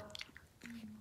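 A small dog chewing a carrot treat makes soft, close crunches and mouth clicks over about a second, with a faint voice under it.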